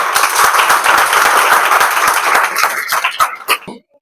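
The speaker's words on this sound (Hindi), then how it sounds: "मैं तालियों से स्वागत करना चाहूंगा" A hall audience at a Republic Day event bursts into dense applause to welcome a retired Army veteran, a loud, steady wash of many hands that thins into scattered claps and stops near the end.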